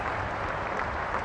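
A stadium crowd applauds to welcome the Home Minister, a steady wash of loud, dense clapping that holds evenly throughout with no voices above it.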